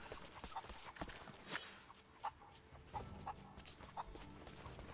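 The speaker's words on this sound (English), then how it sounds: "Come here, chicken." A chicken in the video game Rise of the Tomb Raider clucks in short, faint, scattered bursts against quiet ambient game sound and soft footsteps, with no talking.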